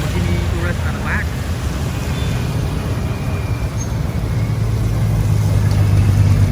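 Supercars, including a Lamborghini Urus, drive past with a loud, steady low engine rumble and road noise that builds slightly toward the end, with no clear individual pass-by.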